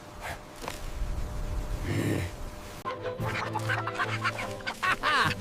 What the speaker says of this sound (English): The Hen Sisters are helping without even knowing it.